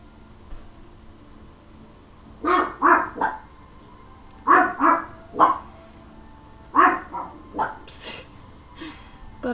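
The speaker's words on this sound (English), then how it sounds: "Butters has a really funny bark" An old dog barks in three clusters of short, loud barks spread across the stretch, with people talking nearby.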